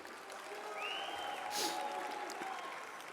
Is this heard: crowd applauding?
yes